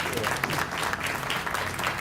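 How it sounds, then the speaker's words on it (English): Applause for Rick Brzezinski at the Buena Park City Yard grand opening: a dense, even patter of many hands clapping, moderately loud and close, holding steady for a couple of seconds. "Round of applause for Rick Brzezinski."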